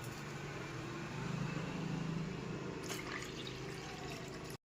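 Water poured from a jug into a pot of washed semolina (rava) being soaked for papad, a faint, steady liquid rush for a few seconds, with no talking.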